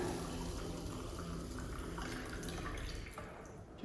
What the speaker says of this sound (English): and then you are going to add some water